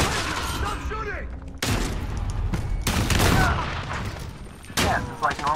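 Heavy gunfire in Call of Duty Modern Warfare, continuous loud automatic bursts and booms with abrupt cuts and glitchy lag, players shouting over the shooting.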